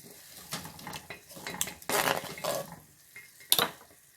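A pot of potatoes set to boil with salt is handled and covered, giving close metallic clatters and scrapes that end in a sharp clank as the lid is closed, with no talking.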